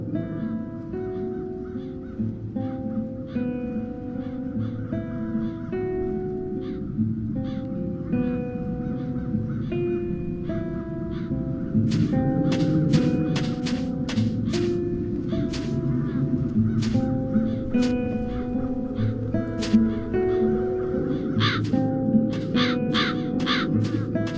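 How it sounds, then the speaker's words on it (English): Crows cawing in the fantasy adventure game The Dark Eye: Chains of Satinav, many harsh repeated caws from several birds over a low ambient music bed, growing busier and louder partway through. "The crows haven't left anything of the town's banner."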